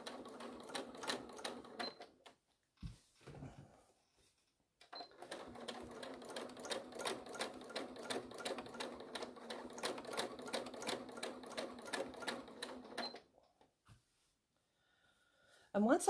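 A sewing machine bastes a trapunto quilt in rapid, rhythmic needle clatter, running in a short burst, pausing, then a longer steady stretch, close and clear with no talk.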